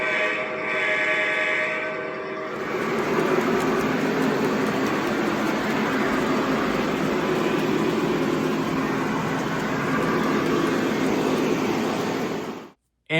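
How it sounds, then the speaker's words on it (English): A modern diesel locomotive with dual motors runs steadily, a broad, continuous rumbling drone that starts abruptly after a short quieter lead-in and holds loud and even before cutting off at the end. "Under the hood, the locomotive is equipped with dual motors which give it plenty of pulling power."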